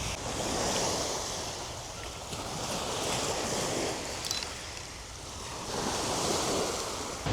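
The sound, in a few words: waves and wind on a sandy beach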